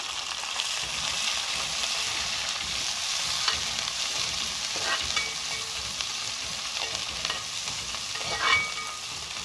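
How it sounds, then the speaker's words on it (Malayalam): Sliced onion and green chili sauté in hot oil in a pan for egg Manchurian, a steady soft sizzle with occasional stirring scrapes and clinks of the spoon, no talking. "ഇതൊന്ന് വഴറ്റണം കേട്ടോ"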